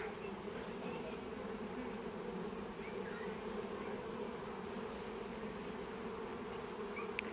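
Honey bees swarm and buzz densely around an open beehive being worked outdoors, a steady close-up drone that holds without a break, with no talking.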